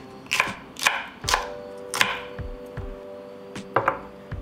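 A knife cuts a small piece of hot pepper on a board, making about six crisp, separate chops at an uneven pace, close and fairly clear in a quiet room.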